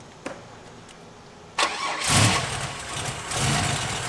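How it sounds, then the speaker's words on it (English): A freshly built 3800 stroker engine fires for the first time, cranking briefly then catching with a loud burst and settling into a rough, surging idle, close by with no talk. "You guys are here watching the first fire of this motor."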